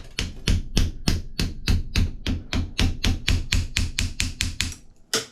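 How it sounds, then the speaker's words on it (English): A rubber mallet tapping a Sachs rear shock part from an Aprilia Tuono or RSV4 during service, a steady run of about twenty evenly spaced sharp knocks, close and loud, with one last stray hit after a short pause. "it's easier just to tap it with a rubber mallet, just like that"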